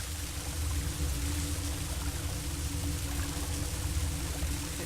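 Lara Croft swimming through water in Tomb Raider Anniversary, a steady continuous splashing and pouring wash that holds at an even level throughout, close and alone with no voices.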